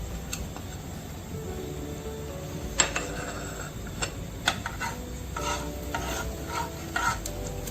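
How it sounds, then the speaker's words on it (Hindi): Cumin and mustard seeds sizzle in hot oil for a tomato chutney, a soft steady crackle with scattered sharp pops and light stirring clicks from a utensil against the pan. "तेल डाल के आप ये इसमें ज़ीरा और ये राई डाल देंगे"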